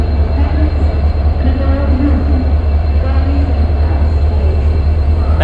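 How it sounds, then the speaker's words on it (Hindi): A loud, continuous low rumble of a train at Kathgodam railway station fills the air, steady and close, with indistinct background chatter mixed in. "ये है काठगोदाम रेलवे स्टेशन,"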